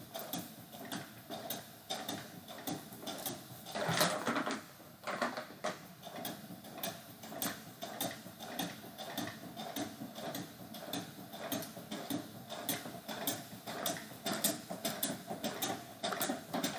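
A sewing machine stitches through a thick woven chicken feed bag, a fast, steady mechanical ticking and rattling stutter that runs continuously, fairly faint and close, with no talk.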